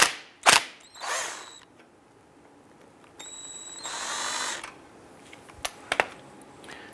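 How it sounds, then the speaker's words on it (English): A hand ratchet backing out a 10 mm bolt from the receiver dryer during a 2008-2013 Nissan Rogue AC compressor job, with bursts of rapid clicking and sharp metallic clacks separated by pauses, close and clear. "want to remove the 10 millimeter bolt from our receiver dryer unit here."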